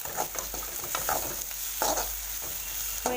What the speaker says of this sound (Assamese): এতিয়া মই গেছৰ ফ্লেমটো কমাই লৈ এইখিনি অলপ ভাজি থাকিম লৰাই